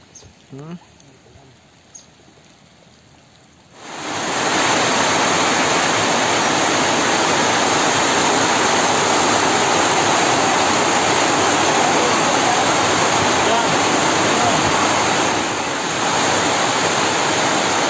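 Heavy rain pours over Lake Maninjau during a fishing outing, starting abruptly after a few quiet seconds and then holding as a loud, dense, steady roar to the end.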